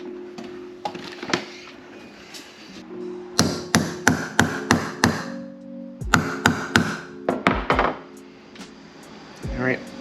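Sharp metallic hammer taps drive a bolt extractor into a broken bolt on an Evo 8, coming in quick rhythmic bursts of about six to eight strikes, close and loud, with brief pauses between the rounds.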